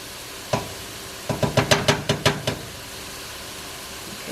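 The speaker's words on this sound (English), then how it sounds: "Give it another quick stir." A spoon stirs sausage, peppers, onions and spices in a pot for lentil soup, making a single scrape followed by a quick rhythmic run of about seven close knocks against the pot over a low sizzle.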